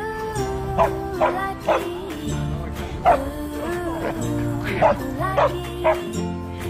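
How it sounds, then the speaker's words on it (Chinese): Several dogs bark and yip at a snowy outdoor dog meetup, close and loud, in short repeated bursts with some whimpering in between and other dogs farther off. "小狗狗越来越多"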